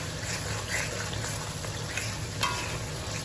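Meat hits a pan of frying spice mixture, a soft, even sizzle with faint stirring scrapes and a brief louder splash of hissing near the end, close and fairly quiet.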